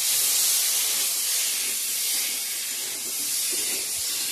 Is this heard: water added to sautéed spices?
yes